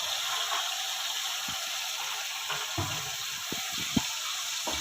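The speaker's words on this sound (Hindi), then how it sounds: "अब हमने इसकी भुनाई करनी है जब तक ये खुश्क नहीं होता" Beef fries in hot oil in a pot as it is browned for beef pulao. A steady, hissing sizzle runs throughout, with occasional spoon scrapes and light knocks against the pot.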